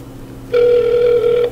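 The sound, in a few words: telephone ringing on an outgoing call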